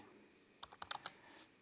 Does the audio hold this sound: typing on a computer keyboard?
yes